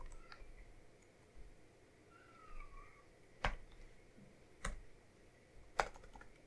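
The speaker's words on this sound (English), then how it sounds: "my cat is yelling at me." Cat meowing indoors, a faint short call heard twice among sharp, loud computer keyboard clicks and quiet background hiss.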